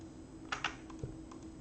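A few sharp mouse-button clicks at a computer running design software, two quick clicks close together followed by softer single taps, close and crisp over a quiet room hiss.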